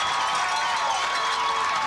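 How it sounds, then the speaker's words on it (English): A football stadium crowd roars steadily after a touchdown at a 1997 Dukes vs. Edison game, a dense, sustained wash of cheering and shouting with no break. "Oh, and listen to this crowd, Gary."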